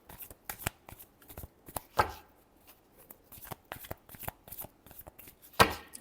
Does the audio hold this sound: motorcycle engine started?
no